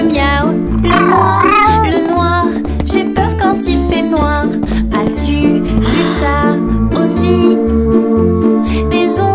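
Sung cat meows ride over a bouncy beat in a French children's Halloween song, repeated meowing calls loud and upfront in the mix.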